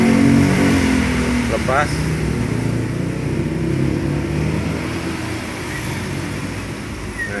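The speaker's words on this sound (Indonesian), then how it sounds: "Ya, sudah hidup, coba digas-gas." Engine of a 2012 Mazda Biante 2.0L fitted with an HHO and EFIE fuel saver, running close with a steady, slightly easing drone as it is revved, while people talk over it.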